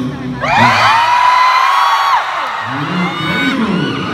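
A crowd of people at a talent audition in Davao shouts and whoops loudly for about two seconds, then a second, shorter burst of cheering rises and fades.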